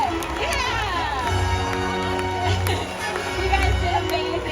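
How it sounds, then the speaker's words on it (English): A SeaWorld San Diego orca show audience gives a loud, steady roar of crowd noise and cheering, with children's shouts mixed into the dense, continuous din. "Let's give them a big round of applause"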